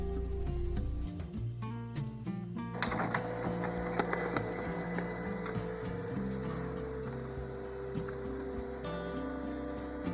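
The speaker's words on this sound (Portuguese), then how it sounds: "deixo na melhor qualidade da impressora e mando imprimir." A printer printing labels at its highest quality setting whirs and clunks through the job, its motor stepping in steady mechanical pulses with sharp clicks near the start.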